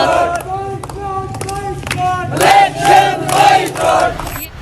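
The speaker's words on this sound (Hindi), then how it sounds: "यहाँ पर लोग इलेक्शन बाइकॉट के नारे लगा रहे हैं।" A crowd in Pakistan-occupied Kashmir chants election boycott slogans, loud rhythmic massed voices calling out in repeated bursts with overlapping shouts, near and sustained.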